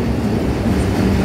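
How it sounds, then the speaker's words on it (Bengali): A metro train rolls past nearby, a steady, dense rumble with a rail-like hum that holds at the same loudness throughout the brief moment. "মেট্রো যাচ্ছে"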